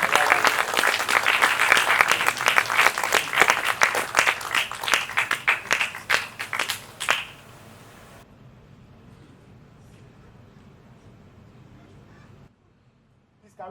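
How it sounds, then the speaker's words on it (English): A crowd at a business clinic event in Lagos applauds loudly and steadily, the clapping tapering off after several seconds into quiet room tone. "Can we give him a round of applause?"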